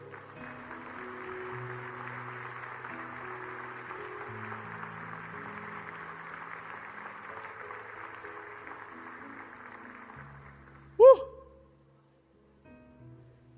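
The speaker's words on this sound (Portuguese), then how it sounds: "Quem pode aplaudir ao Senhor?" A church congregation claps for about ten seconds, a dense, even patter over low sustained instrumental tones, ending with a brief sharp accent before the room falls quiet.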